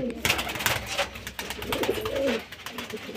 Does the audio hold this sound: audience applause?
no